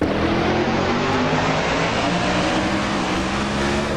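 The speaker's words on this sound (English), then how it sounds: "can hear the car pick up the revs" A loud, continuous race car engine roar in the NASCAR Racing 2003 video game at Dover, rising in pitch as it revs, dense and steady throughout with no talking.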